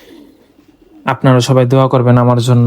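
Pet pigeons coo faintly at first, then a close voice talks over the birds' low, throaty cooing.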